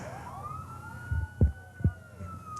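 Sirens wail steadily at moderate distance during a 1997 St. Patrick's Day parade in Woodbridge, with a few dull low thumps and crowd ambience beneath.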